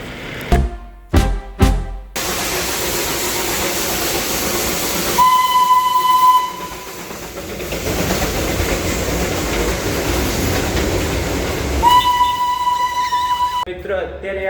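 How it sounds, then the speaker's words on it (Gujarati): Darjeeling toy train passing, heard nearby with a steady rumbling roll, two clear steam-whistle style toots and some hiss, plus brief knocks at the start and people talking over it. "અત્યારે આપણે રેલગાડી જોઈને એ રેલવેમાં આપણે કાલે બેસવાનું છે ટોય ટ્રેનમાં"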